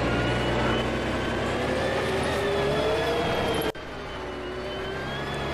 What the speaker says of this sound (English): I do love the sound effects on this bus.